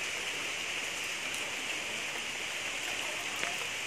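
Outside a mountain town cafe, heavy rain beats down in a loud, unbroken wash, with occasional sharper drips on surfaces nearby.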